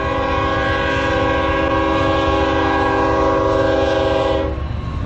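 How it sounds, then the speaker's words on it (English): A train passing a level crossing in Newton, Kansas, where cyclists wait: a loud, sustained horn blast over the steady rumble of rolling cars, lasting several seconds before trailing off. "And this is the first train delay we've had on BAK."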